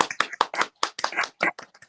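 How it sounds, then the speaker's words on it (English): A small group clapping for a newly married couple, a burst of separate hand claps in an uneven rhythm, close and fairly loud, with no voices. "just clap up for them"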